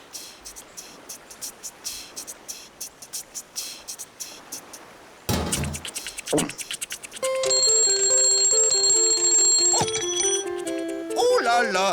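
An alarm clock found in a pond rings in a French children's drawing cartoon. A bright, metallic, bell-like ringing comes after earlier ticking and clatter, and it is followed by musical tones and voices.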